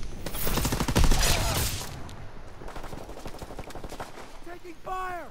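Rapid bursts of machine-gun and rifle fire crackle in a World War II shooter video game, loud and dense at first and then thinning into scattered shots, with game voices and electronic tones near the end.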